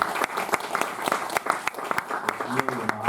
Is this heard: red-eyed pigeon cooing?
no